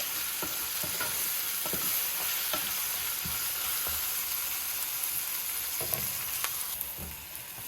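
Ginger-garlic paste fries in hot oil in a pan for egg curry, giving a steady, close sizzle with scattered scrapes and clicks from stirring throughout, and no voices.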